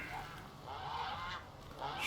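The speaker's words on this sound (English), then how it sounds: "Geese." Geese in the Horizon Zero Dawn video game honk faintly in repeated calls over a steady background hum. No one speaks.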